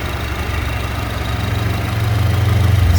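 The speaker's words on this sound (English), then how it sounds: "As you can hear, it's idling very happily." Turbocharged 2-liter four-cylinder engine of a 2015 Audi allroad Quattro Premium Plus idling: a steady low throbbing rumble with a fine rhythmic pulse, close and loud, swelling slightly toward the end.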